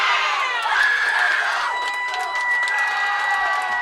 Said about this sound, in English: Ben Davis has a huge crowd involved. They are here. They're here. They're loud.